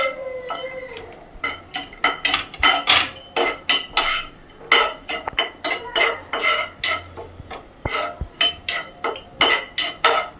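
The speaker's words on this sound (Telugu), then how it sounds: "ఇప్పుడు డ్రై ఫ్రూట్స్ వేసేద్దాం." Dry fruits stirred in a pan for rava burfi, with a spoon striking and scraping the metal in a rapid series of clinks and knocks, close and fairly loud with no talking.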